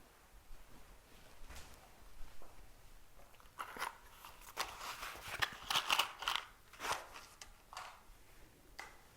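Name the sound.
lighting the temple flame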